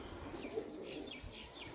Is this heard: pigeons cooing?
yes